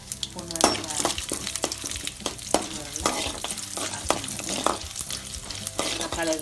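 Urad dal and chana dal fry and sizzle in a pan with popped mustard seeds while being stirred, a steady close crackle broken by sharp scraping taps of the spoon against the pan.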